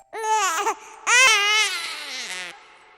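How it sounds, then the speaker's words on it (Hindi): A baby cries in several wailing bursts, loud and close, heard through a baby monitor, with a short pause between sobs and no other talk. "तभी बेबी मॉनिटर से रोने की आवाज आई"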